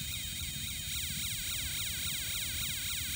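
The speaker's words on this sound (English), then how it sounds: "you will now hear not only a police car siren," A synthetic police-style siren from a Snap Circuits kit rising and falling in quick sweeps, mixed with a low electronic tune, steady and loud throughout.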